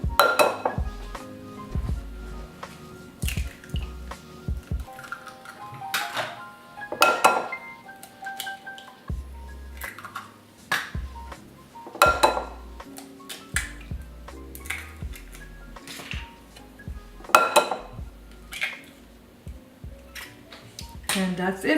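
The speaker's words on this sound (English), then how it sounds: "I'm going to add 4 eggs." Four eggs are cracked into a mixing bowl for a choco flan cake: a series of sharp clinks and taps against the bowl, spaced out over several seconds, with light clattering of dishes between them.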